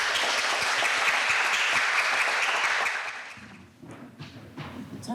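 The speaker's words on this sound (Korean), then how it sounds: "큰 박수를 부탁드리겠습니다." Audience applause at an archive agreement signing ceremony, a dense wash of clapping that holds steady for about three seconds, then thins out and fades into scattered claps and room noise.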